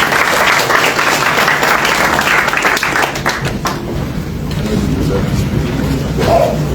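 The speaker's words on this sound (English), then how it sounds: "Let's give him a round of applause" A crowd applauds with steady, sustained clapping that gradually fades, with some voices mixed in near the end.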